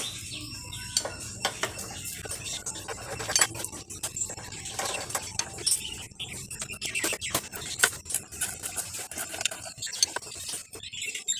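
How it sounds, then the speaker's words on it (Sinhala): Metal clinks and ratchety clicks from an 8 mm T-wrench loosening bolts on a Honda Activa scooter housing during crank seal work, busy and close, with scattered tapping throughout and birds chirping in the background. "අටේ ටී එකක් භාවිතා කරලා මේ යන ටික ගලව ගන්න පුළුවන්"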